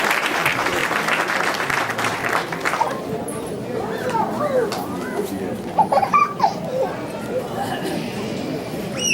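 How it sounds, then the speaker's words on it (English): Applause from an audience at a Mahaveer Jayanti event, dense for the first three seconds, then thinning into scattered claps amid crowd chatter and voices. "Please give a round of applause for Param Shah"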